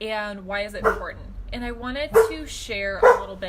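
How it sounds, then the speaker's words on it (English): Dogs barking at home, several sharp barks and yips scattered through the clip, close and loud, mixed in with a person talking over them. "sorry about the dogs."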